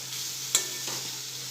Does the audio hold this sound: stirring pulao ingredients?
yes